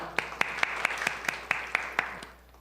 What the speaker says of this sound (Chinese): 我们给神一个热烈的掌声